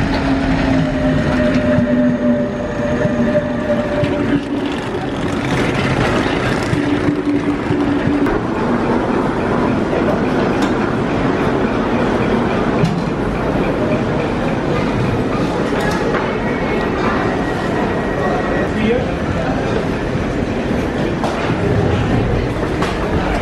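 A passenger train running from Warsaw to Hannover rumbles and rattles continuously, with wheel clatter and squeals heard from inside the carriage and faint voices in the background.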